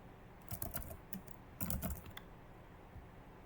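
Password being typed on a computer keyboard: two short bursts of quick, light key clicks, quiet and close, separated by a brief pause.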